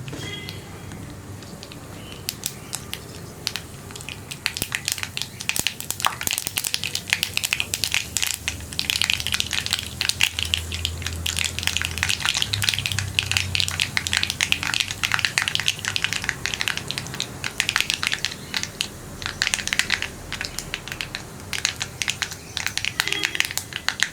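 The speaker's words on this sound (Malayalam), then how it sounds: "കടുക് ഒന്ന് പൊട്ടി തുടങ്ങട്ടെ." Mustard seeds spluttering and popping in hot coconut oil, a dense continuous crackle of sharp pops that grows busier and stays close and loud with no talk.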